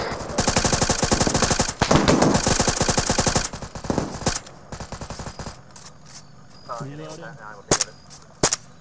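Rapid automatic gunfire in an ArmA 3 squad firefight, loud close bursts for about four seconds, then scattered single shots with a brief voice in the pause.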